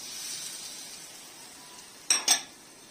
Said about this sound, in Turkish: İyice bir kavuruyoruz.